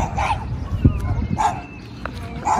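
A dog barks outdoors in short, sharp yips repeated about three or four times at a moderate distance, over steady background noise, with a person's voice briefly heard nearby.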